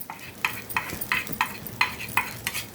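Leftover idli being stirred in a frying pan, a soft sizzle under a series of regular spoon scrapes and taps against the pan, roughly eight strokes at a steady rhythm, close and fairly quiet.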